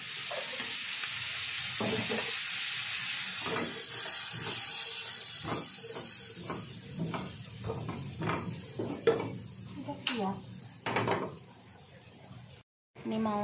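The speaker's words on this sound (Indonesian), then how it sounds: "ini mau tumis kacang panjang" Long beans stir-fried in a pan, with a continuous sizzling hiss overlaid by repeated scraping and stirring clatter from a utensil, close and fairly loud throughout, with a few brief louder knocks near the end.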